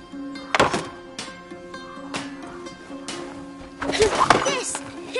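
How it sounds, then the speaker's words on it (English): Stones shot from a sling at targets in the video game A Plague Tale, giving a few separate thunking impacts spaced across the moment, under background game music and scattered voices. "You have 6 stones, 6 possible shots. Try and shoot as many targets as possible."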